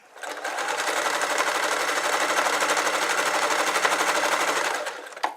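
A sewing machine stitches the end of a quilt binding in one steady, fast whirring run lasting several seconds, close and alone, stopping briefly at the end.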